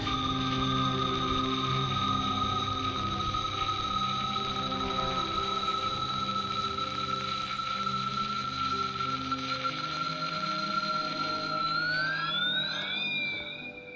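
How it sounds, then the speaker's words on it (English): A ham radio struck by lightning in the Fallout 76 video game sends out a steady, loud alarm tone. The sustained electronic wail holds for many seconds, then its pitch wobbles and slides near the end. "this weird sound started to go off. It was almost like an alarm or something."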